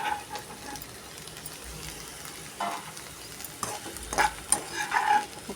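Okra (bendakaya) with cashews frying in a pan while being stirred, a soft steady sizzle broken by a few louder scraping stirs toward the end, close by and without talk.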